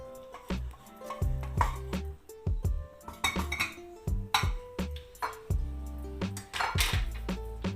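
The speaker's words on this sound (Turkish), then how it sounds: "Şöyle güzelce harmanlıyoruz." Meatball pasta being tossed together with sauce in a pot, giving repeated close metallic clinks and clanks of a utensil against the pan in an irregular rhythm, with no talking.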